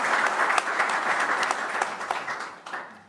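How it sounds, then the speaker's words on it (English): An audience at a panel conversation at Kosovo House in Davos applauds, a dense wash of clapping that stays steady, then thins and fades away. "So a round of applause."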